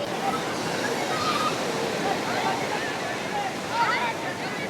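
Strong ocean surf at Puri beach roars as a steady, broadband wash of breaking waves, continuous and fairly loud throughout, with a crowd murmuring faintly beneath it.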